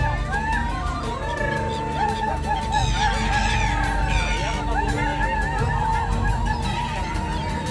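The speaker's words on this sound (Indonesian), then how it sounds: "Kita sambil ngasih makan burung guys" Birds being fed from a boat on the Bosphorus in Turkey, honking like geese: a noisy flock calling repeatedly in overlapping squawks and honks over engine rumble and crowd chatter.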